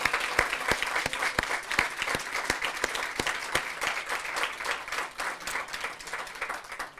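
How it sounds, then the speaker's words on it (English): Audience applauding at an elementary school groundbreaking ceremony outdoors, a sustained burst of many hands clapping with a dense, even rhythm that gradually thins out toward the end. "so let's give them a big round of applause."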